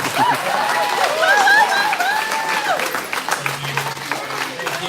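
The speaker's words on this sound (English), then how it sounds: "Round of applause for our lucky, generous bidder." Crowd applauding a winning bidder at an auction event, dense clapping throughout with cheers and whistles rising over it, fairly close.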